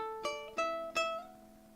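Three plucked ukulele notes from a song riff, each bright pluck followed by a finger slide up the string while it rings, played alone and close at a soft level.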